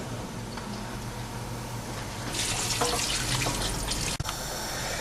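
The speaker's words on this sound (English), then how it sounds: "If there is not enough, it needs to just cover everything, we will add some water." Water pours steadily from a tap into a cooking pot for cuttlefish in romesco sauce, the rushing stream growing fuller midway, with a brief knock near the end.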